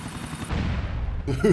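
Gunshots in Grand Theft Auto IV, a burst of heavy blasts that rumble and fade, then a fresh sharp report right at the end.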